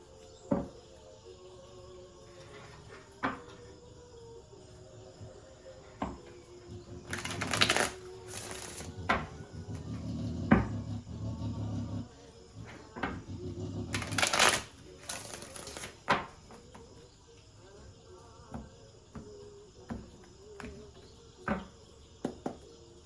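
A deck of tarot cards is shuffled close up. It gives scattered soft riffles and taps, with two louder, longer shuffling bursts in the middle and faint background noise throughout.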